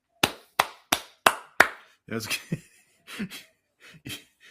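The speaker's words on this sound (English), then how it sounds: "that was me clapping" A person claps their hands five times in a quick, evenly spaced run, each clap close and crisp, followed by people talking.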